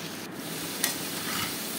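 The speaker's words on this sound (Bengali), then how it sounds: "দেখো আলুটাকে আমি এইভাবে ভেজে নেব।" Potatoes fry in a pan for a jackfruit chicken curry, a steady close hiss of hot oil with one brief scrape partway through.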